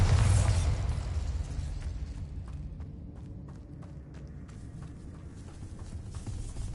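A Bombarda spell explosion in the video game Hogwarts Legacy, a loud blast at the start that fades into a rumbling tail with scattered debris crackles.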